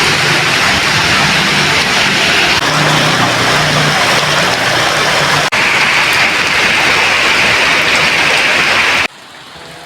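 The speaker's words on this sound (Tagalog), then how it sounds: "Ayan lakas ng ulan" Heavy rain pours in a loud, dense, unbroken roar close by, then cuts off abruptly just before the end.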